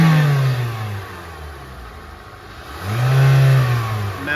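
A car engine is revved twice as the throttle is opened, each rise swelling loud and close, with a lower idle between the two revs.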